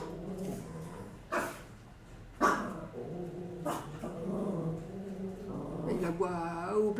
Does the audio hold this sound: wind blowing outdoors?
no